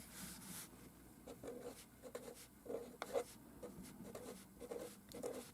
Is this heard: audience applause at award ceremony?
no